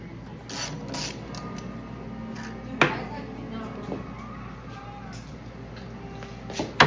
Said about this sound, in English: we're gonna start by taking those two nuts off right by the choke. Got our 10 millimeter.